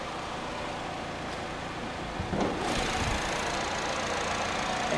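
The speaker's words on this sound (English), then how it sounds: "And there's the Ecotec 4-cylinder, running smooth, sounding nice and strong." Idling 2008 Chevy Cobalt with an Ecotec 4-cylinder engine, a steady low hum that becomes a bit louder and fuller about halfway through, heard close under the open hood.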